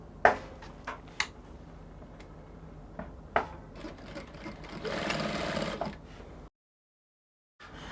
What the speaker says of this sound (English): You sew on one side first.